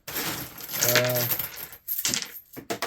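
Pennies clink and rattle together in a brief jingling burst, with a few more scattered clinks after a short pause.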